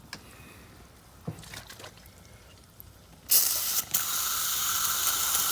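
Aerosol cleaner sprayed into a Toyota Prius EGR system, starting with a few faint clicks and handling noises, then a sudden loud continuous hiss of spray that briefly breaks and resumes, close to the microphone.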